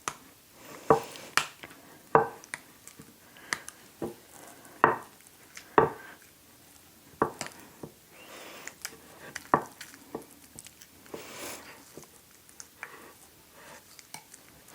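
A spoon mixes a Colby Jack cheese filling for stuffed jalapenos in a bowl, giving quiet irregular scrapes and soft clicks with occasional louder knocks, close and without talk.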